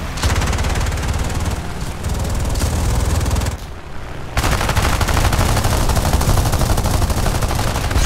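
Aircraft machine guns on a He-51 in the video game War Thunder fire in long rapid bursts, loud and close over engine drone, with a brief pause near the middle before the firing resumes.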